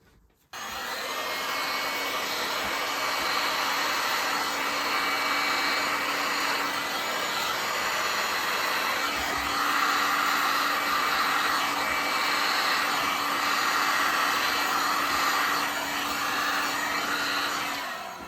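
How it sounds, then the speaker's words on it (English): A heat gun blows steadily over poured epoxy resin galaxy art, a continuous airy whoosh with a faint whine that keeps an even, close loudness for the whole stretch, with no talking. "Now we are going to come in with the heat gun in the same way we did yesterday."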